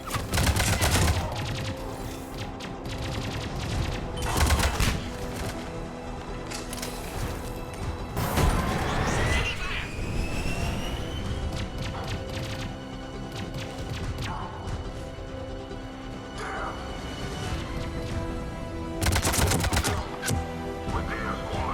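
Gunfire from a firefight at a checkpoint in the video game Mass Effect 3, with dense, continuous bursts and sharp shots throughout, loud and close, louder flurries near the start and end.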